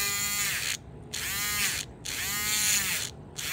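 A small electric motor and gears whir and buzz in an Athearn GP9 model locomotive, a 1957 original kit, running in three bursts of about a second each, separated by short silent pauses, close and clear with no talk.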